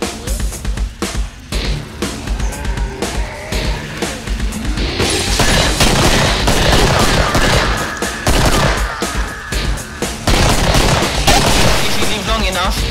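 Rapid gunfire bursts from the video game Killing Floor fill the whole stretch, loud and dense, with a voice talking over the shooting.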